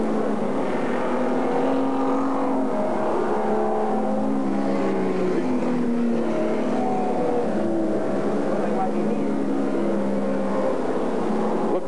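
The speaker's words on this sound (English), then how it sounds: "Back to some serious racing, and Mark Weaver's still cruising around that soft right rear tyre." Race cars lapping at Alexandra Speedway during a 1985 100-lap race, a continuous distant engine drone that swells and fades as the cars pass, with crowd and ambient noise beneath.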